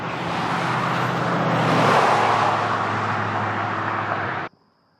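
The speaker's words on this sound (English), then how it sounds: "Lots of traffic." Road traffic on a narrow bridge over the New River with no shoulder: a car approaches and rushes past close by, swelling to a loud whoosh before the sound cuts off abruptly near the end.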